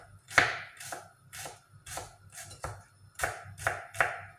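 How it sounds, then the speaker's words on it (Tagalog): A knife finely chopping green bell pepper, onion and carrots on a board, about ten crisp, close, evenly spaced strikes in a steady rhythm with no talking. "finely chop lang natin guys"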